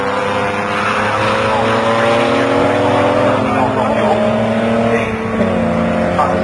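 Jaguar XJS and saloon race cars in a night race at Donington Park roar past together, their engines layered as loud, sustained droning tones that shift in pitch as they accelerate down the straight toward a corner.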